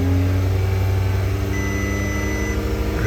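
A 2013 VW Tiguan with a low oil pressure fault revs steadily in a garage, a loud, close, sustained engine drone with a held pitch and no talk.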